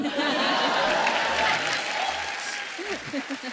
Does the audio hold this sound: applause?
yes